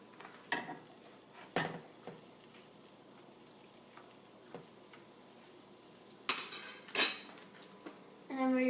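Food flipped in a pan: a few scattered clanks and scrapes of a utensil against cookware over near silence, then a sharper clatter and a brief bright ring toward the end.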